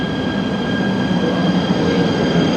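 An air-conditioned train in Malaysia runs at speed, producing a constant rolling roar with a faint steady hum on top and no talking.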